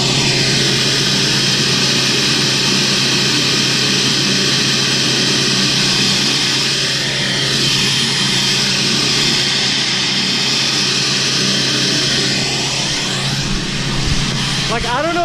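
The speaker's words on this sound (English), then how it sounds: "with the muffler delete, and it is freaking screaming right now with that straight pipe" Diesel truck with a 12-valve engine, straight pipe and muffler delete idles after a cold start, a loud, harsh, sustained drone with a high whistling edge, heard close and continuous.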